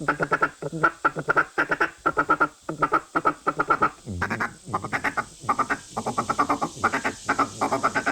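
A duck call blown to imitate low, clucky feeding calls, producing rapid rhythmic quacking chuckles in close, loud, continuous bursts with short pauses between series.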